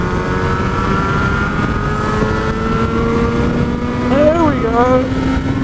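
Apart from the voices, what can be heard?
Yamaha RD350 YPVS motorcycle engine revving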